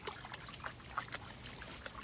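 Garden stream water trickles and dribbles faintly, with small scattered splashes and drips over a quiet, steady wash.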